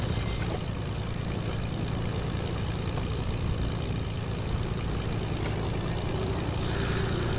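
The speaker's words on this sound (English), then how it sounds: "I see the plane landing." Propeller airplane in a video game, landing at an airfield: a steady, loud broadband engine drone with a low rumble that holds throughout without a break.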